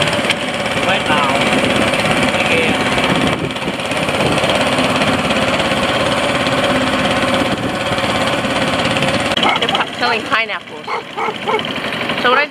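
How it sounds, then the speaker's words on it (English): A loud, steady boat engine on the Mekong River drones throughout with a constant mechanical hum, while dogs bark intermittently and voices chatter nearby; the engine noise eases off near the end. "Máy tàu."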